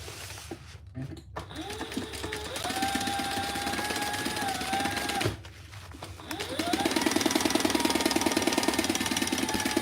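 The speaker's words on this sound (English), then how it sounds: "And we're going to sew down the sides." Sewing machine stitching down the sides of folded fabric: a steady mechanical whir that speeds up in steps, stops briefly midway, then restarts and runs faster and louder to the end.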